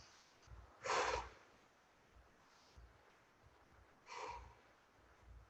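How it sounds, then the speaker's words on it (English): Deep breaths taken during a Foundation Training fitness exercise, two clear, breathy inhales or exhales about three seconds apart, soft and close over a quiet room. "Take 3 big breaths here."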